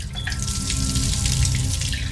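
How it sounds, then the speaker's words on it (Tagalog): A bathroom faucet turns on and runs steadily, a loud, close, continuous rush of water pouring into a sink with no talking. "nang magbukas ang gripo ng CR"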